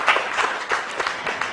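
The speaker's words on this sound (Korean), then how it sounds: "자, 박수 한번 주시죠." Brief audience applause at a talk concert on working mothers and parenting dads, quick uneven clapping from a modest crowd, close and fairly lively.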